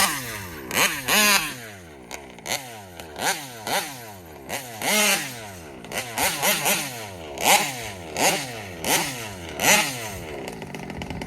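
Taylor RC 35 reed engine in a 71 Supreme RC car, buzzing loudly and close with repeated sharp revving bursts that rise and fall throughout, and no talking.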